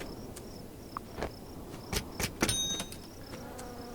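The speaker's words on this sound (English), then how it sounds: "These are the bees for honey, I think." Honey bees buzzing in the farming video game Farm Together: a faint, steady insect buzz with a few short louder bursts.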